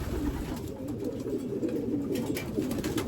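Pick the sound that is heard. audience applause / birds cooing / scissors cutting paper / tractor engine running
birds cooing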